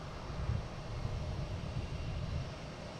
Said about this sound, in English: next coming in, we have a JetBlue from Cancun